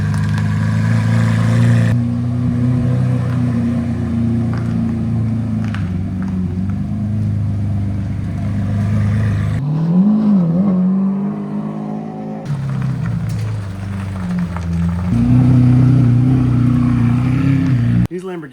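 A Lamborghini engine idles and revs in a steady mid-pitched drone that rises in pitch as it pulls away, loud and close, with people talking over parts of it.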